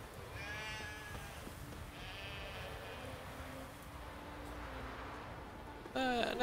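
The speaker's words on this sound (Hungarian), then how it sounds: "Hey sheep, come here." Sheep in The Witcher 3 bleat several times as a flock is herded across Skellige, and the calls carry clearly over a constant game ambience. A louder burst of bleating comes right at the end.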